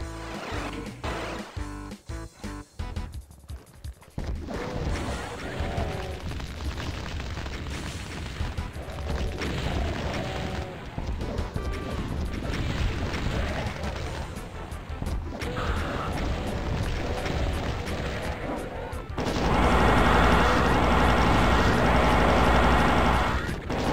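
Repeated rocket blasts and booming impacts from a Doom 2 rocket launcher, fired during a hectic fight. Heavy dense thuds and crashes run throughout, closing with a louder, broader roar of noise.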